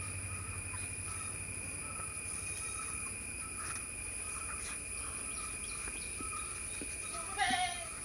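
A tall, long-bodied goat of about 40 kg, a cross that has kidded once, gives a single short bleat near the end, heard over steady high insect chirring outdoors.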